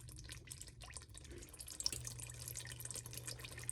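Tallow rendering at a soft, gentle boil in a pot gives off a steady low bubbling and watery burble, with faint irregular pops scattered above it, close by and with no voices.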